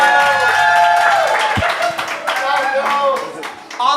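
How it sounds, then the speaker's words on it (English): Audience applause and clapping for a co-host at a live comedy stage show, a crowd clapping continuously while voices talk over it, with cheering tones rising and falling. "could I get a bigger applause for my co-host"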